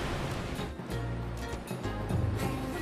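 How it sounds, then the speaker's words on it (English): Nachi no Taki, a waterfall in Wakayama plunging 133 meters, gives off a steady, dense roar of falling water that stays even and unbroken throughout. "This waterfall in Wakayama Prefecture is called Nachi no Taki. It plunges 133 meters"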